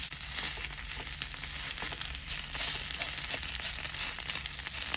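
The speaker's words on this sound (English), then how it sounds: "I'm gonna just flip them over one by one, just so that they get a nice sear like that one." Food sears in a pan after being flipped, giving a steady, fairly soft sizzling hiss with faint crackles throughout and no voices.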